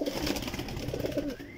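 Flying pigeons of the salara type cooing in a loft in Sialkot, a soft, throaty burble that rolls on continuously for a moment. The birds sound close and fairly loud, with no talking.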